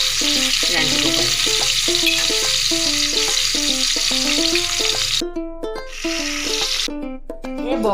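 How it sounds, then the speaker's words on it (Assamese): Fish frying in a pan with turmeric, a loud steady sizzle and hiss running throughout, joined by scraping stirs and clatter from the cooking, with a break in the sizzling near the end. "মাছো ভাজি থাকোঁ"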